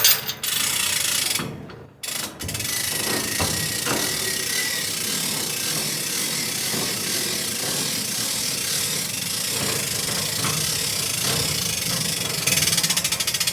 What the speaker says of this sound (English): we have a hand winch right here that you can use to load the logs